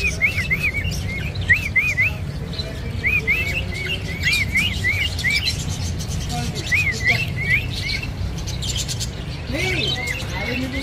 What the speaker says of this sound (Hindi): बहुत अच्छी क्वालिटी के बर्ड्स है दोस्तों